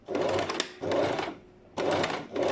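Sewing machine top stitching bias tape on a satin binding, running in three short close bursts of fast, steady needle chatter with brief quiet pauses between them.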